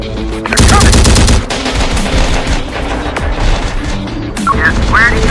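Heavy rapid gunfire in the video game Terminator Dark Fate Defiance, a loud dense barrage of machine-gun bursts and booms running throughout, with brief voices shouting near the start and end.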